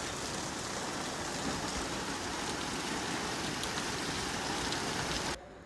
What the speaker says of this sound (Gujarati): વરસાદ ફૂલ જોશમાં આવી રહ્યો છે, મુશળધાર